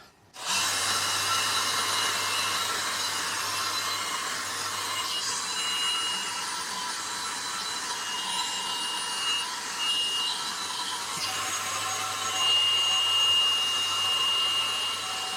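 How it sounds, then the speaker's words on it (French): A small hair dryer blows steadily on the painted lettering of a Tesla Model 3 brake caliper, a close, continuous airy whoosh with a faint motor hum that holds at an even level throughout. "J'ai préparé un petit sèche-cheveux"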